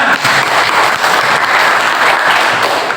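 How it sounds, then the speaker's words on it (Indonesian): Applause from students in a classroom, a dense, steady clapping that fills the whole three seconds at close range and holds at an even level without a break. "Ya, berikan tepuk tangan."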